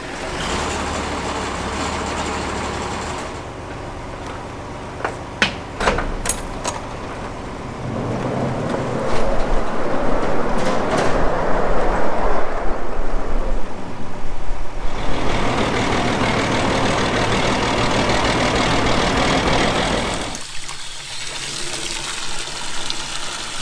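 A farm feed mill starts up in winter. A low mechanical rumble swells into a loud, steady churning roar that holds for several seconds before dropping back to a lighter running noise.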